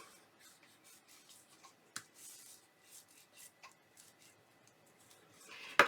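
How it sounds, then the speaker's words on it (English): Folded pattern paper is burnished down onto glued cardstock with soft, faint rubbing strokes and light taps, ending in a brief louder paper rustle. "I'm just going to fold this over and burnish it down."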